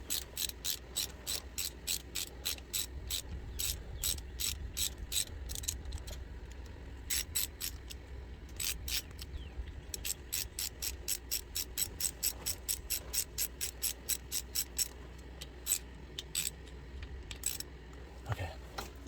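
A hand ratchet snugs up bolts during an S&S 475c cam install on an M8 114 engine, with rapid, close, crisp clicking in steady bursts that runs almost continuously with only brief pauses.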